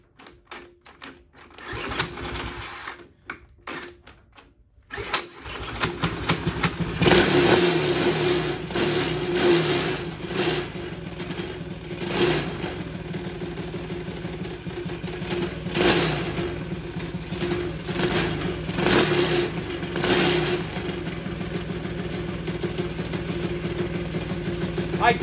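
Honda CT70K1 motorcycle engine, a small mini-bike running on stock carburetor jets, starting up and then idling steadily with a fast, rattling putter that rises and falls slightly; a few quiet sounds precede it.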